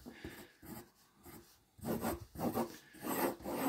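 A pencil scribbles loose warm-up sketches on paper in bursts of dry, raspy scratching strokes, with a brief pause before a louder run of quick back-and-forth scrawls.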